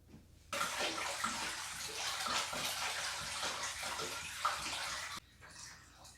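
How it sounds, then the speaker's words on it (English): Water gushes steadily into a Fluval Flex 32-gallon aquarium for about five seconds, a loud continuous splashing rush that then stops abruptly. "And now it's time to add the water."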